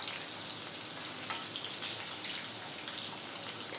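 Salt-free raw mango pieces frying in oil for a pickle give off a steady, dense sizzle and crackle of hot oil, close and continuous, with no talk.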